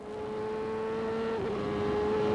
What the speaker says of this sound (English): Now listen to the engine note.